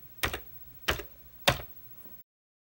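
Three separate keystrokes on a Commodore 64 keyboard, evenly spaced and close, each a short clacky tap followed by quiet, with no talking.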